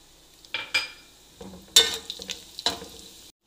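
Whole green and black cardamom pods, cloves, black peppercorns and white cumin drop into hot oil as the base for a mutton korma. Short crackling bursts and clinks rise and fall with gaps, close by, with no talking.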